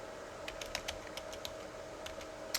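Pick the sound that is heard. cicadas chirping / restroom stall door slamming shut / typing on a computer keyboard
typing on a computer keyboard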